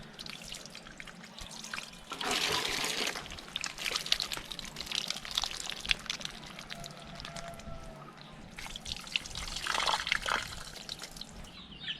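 Fallen fruit being washed outdoors: water pours and trickles in a couple of stronger splashing bursts over a faint steady background, no voices.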